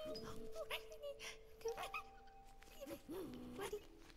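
A dog in a video game whimpers and whines softly in a few short, high, wavering cries, quiet and close, with faint rustling between them.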